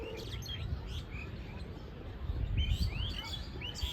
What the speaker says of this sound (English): There are lots of birds on these trees.